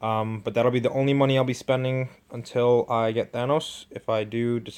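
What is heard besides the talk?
None of the usual background noises is heard.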